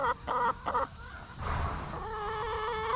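A young farm chicken clucks loudly in a quick burst of calls, then lets out a longer, steadier squawk over outdoor farmyard ambience.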